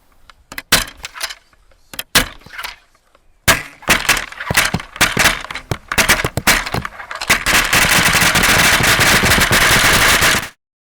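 A rapid-fire repeating latchet crossbow shoots in sharp mechanical clacks, first in scattered bursts and then as a loud, dense, continuous rattle for several seconds before stopping abruptly.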